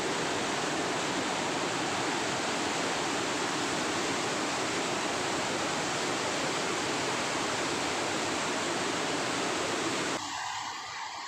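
River water at Bhairav Kund flows with a steady, loud broadband rush that fills the whole clip and drops away abruptly near the end.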